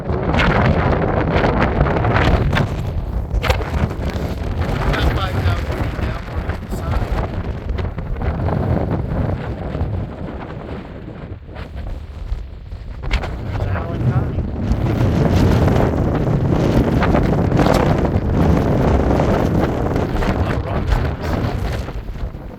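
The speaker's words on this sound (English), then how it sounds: "Windy up here." Strong wind on the summit of Mt. Washington, New Hampshire buffets the microphone in loud, roaring gusts that rise and fall throughout, with a person speaking briefly over the rushing noise.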